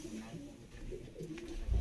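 A pigeon held up for display gives low, soft coos close by, with a quiet murmur of handling noise beneath and a bump at the end.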